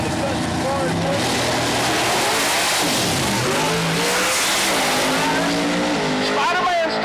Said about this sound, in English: Line up Johnny Barb, getting him ready to fly right off the starting line.